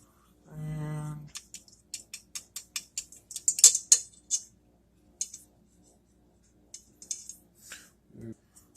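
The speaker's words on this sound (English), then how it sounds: "I'm going to whisk it for a bit" Whisk scraping and tapping against a pan of mac and cheese sauce, a run of quick irregular metallic clicks up close, preceded by a short voice and ending with a brief thud.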